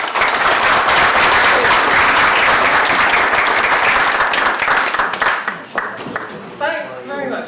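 An audience breaks into sustained loud applause to welcome a speaker at a talk, steady dense clapping that thins out toward the end as the crowd settles.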